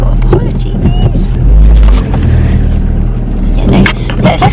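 A car on the road, with a steady engine hum and road rumble and occasional low buffeting thumps, while people talk over it.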